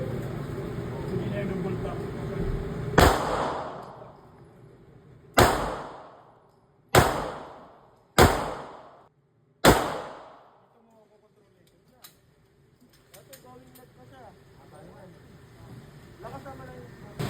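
Five sharp Glock pistol shots at an indoor or range setting, spaced unevenly with ringing decay after each, loud and close, with brief quiet talk before and faint clatter afterward.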